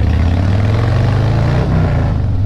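A motorcycle engine revs through its exhaust, a loud, steady low rumble with a small rise in pitch near the middle, close by and with no talk.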